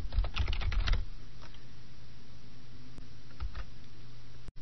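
Quick bursts of keystrokes on a computer keyboard while entering data into an Excel spreadsheet, a flurry of close clicks at first followed by a few isolated taps in a quiet room.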